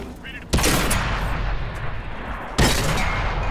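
A Churchill III tank's main gun fires in a video game: two loud, booming shots about two seconds apart, each with a long rumbling tail. A voice speaks faintly under the noise.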